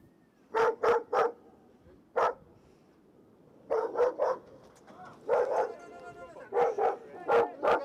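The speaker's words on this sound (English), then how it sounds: "when they encounter a large dog" A large dog in an Afghan compound barks loudly and close by, in clusters of two or three sharp barks separated by pauses, with faint voices in the background.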